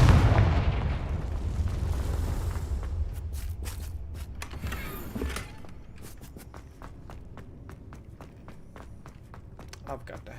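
Confringo blasting spells fired in the video game Hogwarts Legacy: a loud booming burst with low rumble opens, then a second blast mid-way, trailing into scattered sharp cracks and footstep-like taps.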